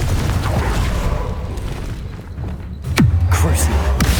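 A Confringo blasting curse goes off during a Hogwarts Legacy battle, a loud, sustained roar of booming noise with a sharp swooping tone midway before the rumble swells again.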